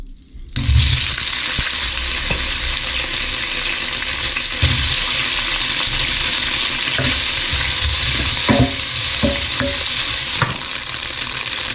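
Tofu sizzles loudly and steadily in a little olive oil in an electric pan, with occasional scraping and stirring knocks over the constant frying hiss.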